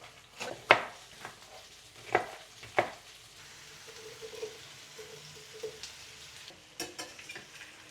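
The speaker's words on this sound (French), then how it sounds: "pendant que les aubergines sont en train de frire" Aubergines frying in a pan, giving a soft, steady sizzle punctuated by several sharp utensil clacks and scrapes against the pan, mostly near the start and end.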